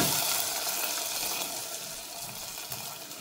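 Water pours in a steady stream into a cooking pot while making pappu pulusu, a continuous splashing gush that gradually softens, close and unaccompanied.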